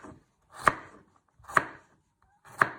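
A knife chops a carrot into little pieces on a cutting board for a sausage casserole: three crisp, close strikes about a second apart, with quiet gaps between them and no talk.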